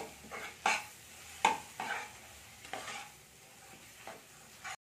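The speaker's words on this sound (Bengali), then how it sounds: "দিয়ে এবার এই মশলার সাথে আমি ভালো করে নাড়তে থাকবো।" Green pea paste and spices are being stirred in a pan for a winter pea-stuffed paratha, making several distinct scraping strokes over a faint sizzle in an otherwise quiet kitchen.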